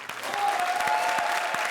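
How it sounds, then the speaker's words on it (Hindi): Studio audience at a comedy show grand finale breaking into loud applause for the comedians Krishna and Sudesh, a brief burst of dense clapping that swells quickly and holds, with a sustained tone running beneath. "जोरदार तालियां कृष्णा और सुदेश के लिए।"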